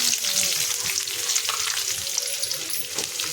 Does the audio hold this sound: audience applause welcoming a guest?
no